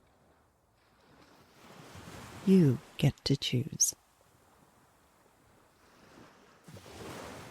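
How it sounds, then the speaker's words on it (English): Gentle waves wash onto a Florida beach shore in a soft, continuous hush of surf. Close, brief bursts of speech rise over the waves in the middle of the clip. "The waves move in a gentle hush"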